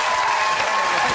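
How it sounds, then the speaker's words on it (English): Studio audience applause on a British comedy quiz show, a dense steady wash of clapping from many hands filling the whole moment without pause. "Give them a round of applause."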